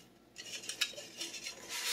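Shredded coconut toasting in a pan is stirred and shifted for about two seconds, giving soft, quiet scraping and rustling strokes with no talking.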